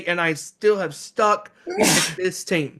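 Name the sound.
sneeze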